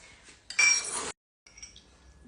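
A small spoon stirs lemon into a ketchup-based sauce in a dish, giving a short, bright clatter of metal against the bowl followed by softer, sparse clinks.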